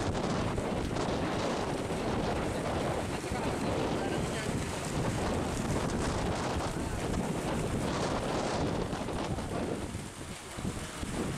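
Wind buffets the microphone outdoors during an inspection of water pipes and pumps in Soe, a loud continuous rumbling roar that holds steady before easing slightly near the end.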